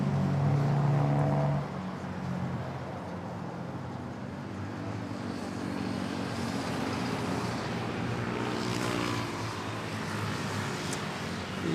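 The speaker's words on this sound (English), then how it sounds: "And then we have a takeoff over at runway 31" An airliner takes off from runway 31 at Manila airport, a broad, distant roar of jet engines that holds steady and then swells slightly, with no voices over it.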